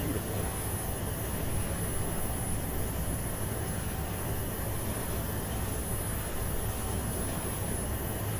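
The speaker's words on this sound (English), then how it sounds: "the airplane is surprisingly loud in the front" Steady jet engine roar fills the cabin of an aircraft in a flight simulator game, a constant loud broadband hum with a faint high whine, unbroken throughout.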